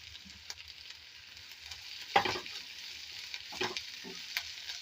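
Curry leaves and green chillies frying in a pan for a chickpea roast, a steady close sizzle with crackling bursts as pieces hit the hot oil and are stirred.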